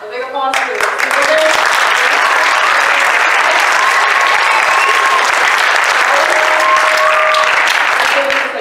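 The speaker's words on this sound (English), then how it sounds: "So, a big applause for you." A school band concert audience breaks into loud, sustained applause, dense clapping lasting several seconds with scattered cheers and voices mixed in.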